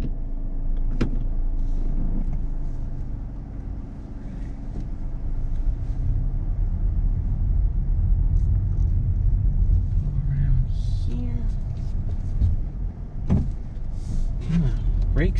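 A 2019 Honda Civic with a CVT drives at low speed, its steady engine and road rumble continuous throughout, with a few interior clicks and thumps and someone talking over it.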